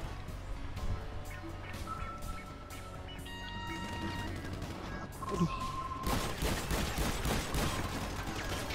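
Gunfire in a GTA V Online deathmatch, scattered shots and bursts mixed into busy game sound, growing louder and denser toward the end, with some faint background tones.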